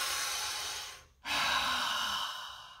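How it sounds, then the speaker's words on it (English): A deep breath taken during a class exercise, a long broad breathy inhale, a brief pause, then a strong drawn-out exhale, close and fairly loud with no talking. "Let's go ahead and take a deep breath while we're here."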